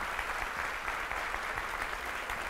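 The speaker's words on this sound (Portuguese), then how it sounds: "Pode aplaudir mais forte?" Steady, dense applause from a church congregation, continuous and fairly loud throughout with no clear pauses.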